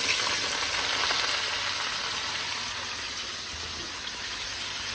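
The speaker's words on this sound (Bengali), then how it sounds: "এখানে চিংড়ি মাছটা ভাজতে আসবে, আর এখানে কড়াই এতটা ঝাঁঝ উঠছে" Prawns frying in a hot wok for a jackfruit and prawn dish, a steady broadband sizzle that holds at a constant loud level for the whole stretch with no one talking.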